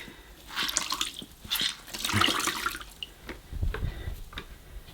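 Water pours and splashes while a hand-powered Presawash washing machine is refilled with detergent and oxy powder, a soft intermittent running and trickling with a few drips, moderately quiet.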